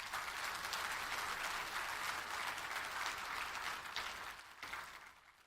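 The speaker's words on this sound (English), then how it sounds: "Can I have a round of applause?" A crowd at the Bengaluru GAFX 2022 inauguration gives a steady round of applause. The dense clapping holds for about five seconds before tapering off slightly at the end, with no talking over it.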